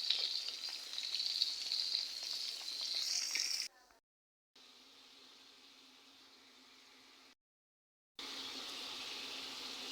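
Fish frying in a pan during a home Ramadan cooking session, a steady close sizzle that breaks off twice into brief silence, with a quieter stretch of frying between the gaps.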